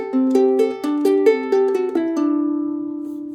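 A guitar plays a melodic lick from a song, a quick run of clear plucked notes with hammer-on phrasing that settles onto a final ringing note fading out, solo and close.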